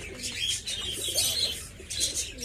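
Pigeons in a rooftop loft coo softly in repeated low calls, with a few brighter chirps and light rustling mixed in, close by and fairly quiet.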